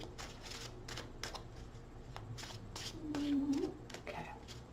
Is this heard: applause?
no